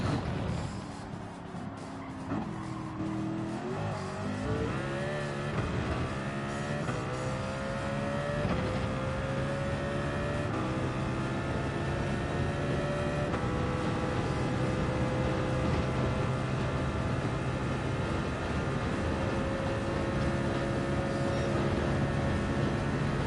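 A race car running a fast lap in Gran Turismo 7, the engine note climbing and shifting through the gears as it revs hard and steadily, loud and continuous with no talking.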